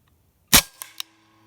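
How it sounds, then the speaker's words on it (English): A Hatsan Blitz .30 caliber PCP air rifle fires a single sharp, loud shot into two stacked 2x6 wooden boards, followed by two quick fainter knocks as the pellet strikes, then quiet. "Now for shot 2, we're going to see what it does to 2 2x6s."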